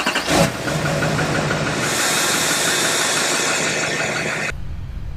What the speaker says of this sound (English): see what this thing's gonna sound like with this cutoff muffler and straight pipe